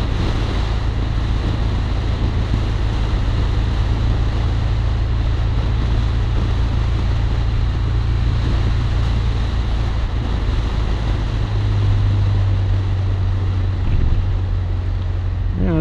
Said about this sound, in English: this windscreen definitely throws the wind right up on my face